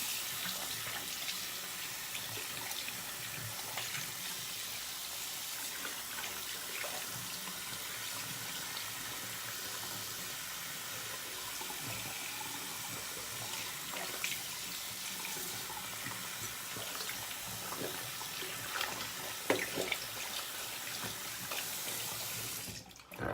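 Tap water runs steadily into a sink as shaving soap is rinsed off a face, a constant close hiss and splash with small shifts in the flow and no talking.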